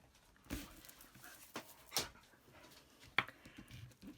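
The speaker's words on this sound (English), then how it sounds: "My dog's jumping on me, I'm going to have to go." A pet dog jumps about and pants, with a few soft breathy huffs and brief scuffling bursts spaced out over a quiet background; faint and close, no talking.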